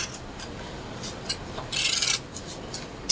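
Scissors trimming fabric around the front opening of a sewn shift dress with bell sleeves, giving soft, close rasping cuts with one longer snipping burst in the middle, no talking.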